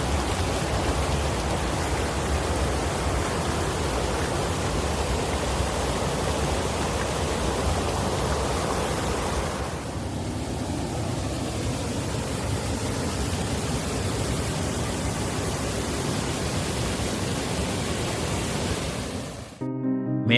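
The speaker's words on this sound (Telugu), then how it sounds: "ఇక్కడ చూడండి, ఈ నీళ్లు ఎంత ఫోర్స్తో ప్రవహిస్తూ ఉన్నాయో ఆ శబ్దం కూడా" Water gushes forcefully over the overflow weir of Cherlabuthkur's big lake, a dense, unbroken roar heard close by that dips slightly midway and then cuts off abruptly at the end.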